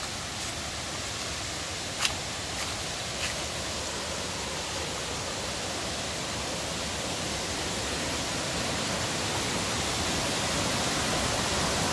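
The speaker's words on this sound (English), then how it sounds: "And there's two nice waterfalls." Waterfalls of the Forestport Feeder pouring into the Lansing Kill in Boonville Gorge, a steady broadband rush of falling water that holds even throughout, with a couple of faint brief clicks near the start.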